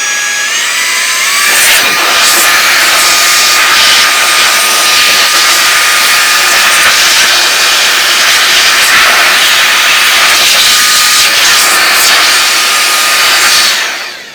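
A compressed air blower on full blast clears lint out of a serger, a loud, steady roaring whoosh that starts abruptly, holds for over ten seconds and then cuts off.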